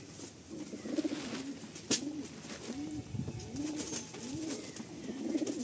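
Pigeons in a loft coo in a quiet, repeating rhythm of low, rounded calls, with one sharp click partway through and soft rustling behind.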